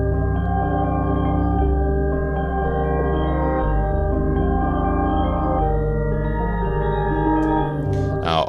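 A multi-keys synth preset from Analog Lab sustains dense, layered low chords with shifting harmonics for over eight seconds, ending in a brief bright scrape.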